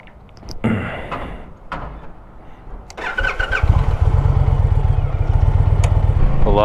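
A motorcycle engine starts after a few clicks and mechanical knocks, catching into a loud, steady, close idle that runs on without pause, with no one speaking.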